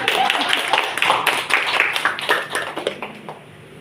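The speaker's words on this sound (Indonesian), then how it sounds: "Tepuk tangan dulu." An audience of teachers at an indoor gathering breaks into a short round of hand clapping, brisk and fairly close, that thins out and fades within a few seconds.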